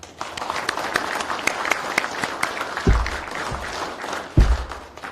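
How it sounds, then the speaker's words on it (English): An audience at a law enforcement academy graduation ceremony applauds steadily with scattered distinct claps, joined by a couple of low thumps partway through. "So please give them a round of applause as well"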